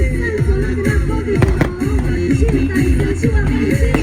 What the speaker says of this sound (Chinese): 高空烟火秀